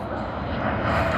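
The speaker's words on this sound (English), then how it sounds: "Look at what we have. Cathay Pacific, Boeing 777-300ER," Engines of a Cathay Pacific Boeing 777-300ER at Sydney Airport give a steady, broad jet roar, loud and continuous over a short stretch, with no clear voices.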